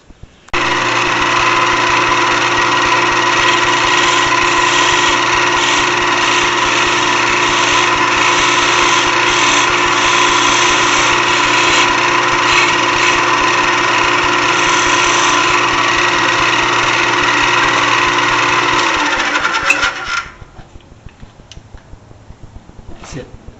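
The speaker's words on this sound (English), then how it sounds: "I think we're going to try to do this on the lathe and see if we can do it on that." A lathe runs steadily and loudly while cutting a replacement piece for a pillbox repair, a constant whirring machine drone with harmonic hum that cuts off near the end, leaving quiet room noise.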